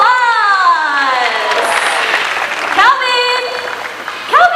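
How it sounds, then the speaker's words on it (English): Audience applause and cheering at a bird show in an outdoor park, a steady crowd wash with whistles and voices over it, loud and close, with bird-like calls and excited shouts rising toward the end. "let's give Ippy and Calvin a round of applause"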